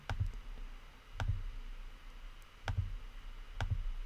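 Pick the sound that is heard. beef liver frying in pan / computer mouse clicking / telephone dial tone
computer mouse clicking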